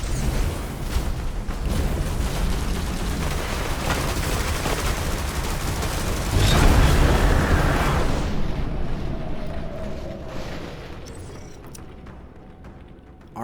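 Rockets launching and beam weapon strikes in the mech tactics game Phantom Brigade, a loud, dense roaring barrage that swells midway with a heavy blast, then thins and fades toward the end.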